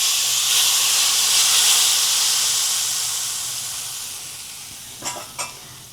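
Hot tempering of cloves, chillies and asafoetida poured onto chickpea kadhi gives a loud, steady sizzling hiss that slowly fades, followed by two short clinks near the end.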